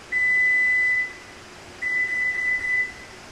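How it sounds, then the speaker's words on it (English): A Toyota RAV4 emits two long, steady electronic beeps separated by a short pause after a button is held down, clear but modest in level over faint background noise. "It's about 2 seconds until you hear, I think it's 4 beeps."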